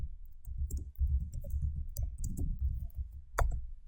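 A computer mouse clicks the sign-in button during a Power BI Gateway installation, giving a few faint, sharp clicks over a low background hum with no talking.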